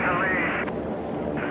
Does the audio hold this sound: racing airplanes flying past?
yes